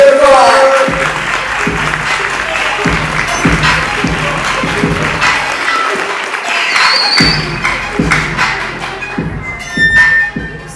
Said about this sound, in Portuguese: Queria uma salva de palmas aí para Bruno